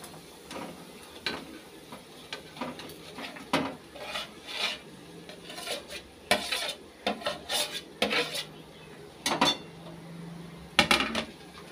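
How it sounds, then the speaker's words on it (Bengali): Boiled potatoes and peas are tipped into cooked, oil-released spices in a pan and stirred, producing repeated close metal spoon scrapes and clanks against the pan over a soft sizzle, with no talk. "এখন দিয়ে দেব সেদ্ধ করে রাখা আলু আর মটরটা।"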